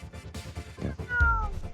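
A special needs cat meows once in a short, close, fairly loud call, with a rising then falling tone toward the end and no talking over it.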